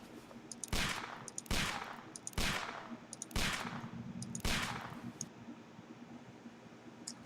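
Gunfire in the Sherlock Holmes: The Devil's Daughter video game, five sharp loud shots in an uneven sequence roughly a second apart, each ringing out briefly over quiet background noise.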